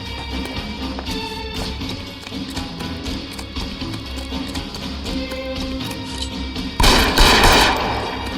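Rapid gunfire in the LA Noire video game, a dense run of sharp cracks over a busy rumbling game mix, ending in a louder, harsher burst near the close.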